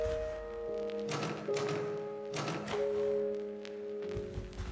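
In the video game Inmost, a locked door is tried again and again, making dull tapping thunks in small clusters. The impacts sit over a sustained, droning musical backdrop.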